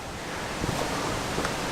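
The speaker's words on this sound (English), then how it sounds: "as you can hear, a lovely river that cascades through the village" A river cascades through a village near the Italian Lakes, producing a continuous rushing broadband wash at moderate level with small splashy flickers and no talking.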